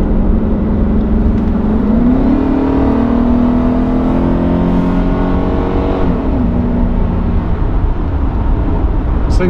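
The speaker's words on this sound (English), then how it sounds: "So I'm going to just accelerate onto the highway here." A 1989 Mercedes-Benz 560SL with its V8 accelerates onto a highway, the engine note climbing steadily, settling briefly around a gear change, then pulling again under constant road and wind noise.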